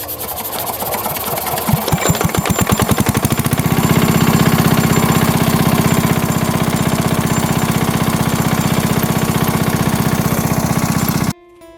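An engine-driven irrigation water pump in a guava orchard starts up with quickening firing pulses, then settles into a loud, close, steady chugging before cutting off abruptly at the end.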